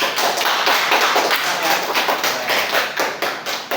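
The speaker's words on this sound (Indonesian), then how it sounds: "tepuk tangan dulu dong" A roomful of people claps in quick, steady rhythm, a lively round of applause lasting several seconds, with faint voices underneath.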